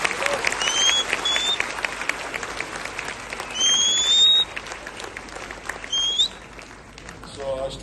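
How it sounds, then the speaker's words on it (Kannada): Sustained applause from an audience at a scholarship announcement event in Kalaburagi, a steady dense patter of many hands with a few sharp whistles cutting through, loud and continuous throughout. "ಶುಭ ಹಾರೈಸಿ ಒಂದು ಚಪ್ಪಾಳೆ ಹೊಡೀರಿ ನೋಡೋಣ"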